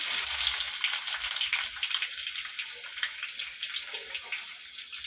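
Onions dropped into hot oil in a pan for prawn biryani, a bright steady hiss of frying up close with faint bubbling, no talking.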